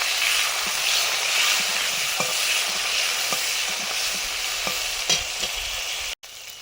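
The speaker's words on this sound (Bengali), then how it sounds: "পাবদা মাছের সর্ষে ঝাল করছি। তেল দিয়েছি, কালো জিরে, টমেটো কুচি," Pabda fish mustard curry cooking in hot oil with nigella seeds and chopped tomato, a loud continuous close sizzle with occasional faint clinks of stirring, and a brief drop-out near the end, no voices.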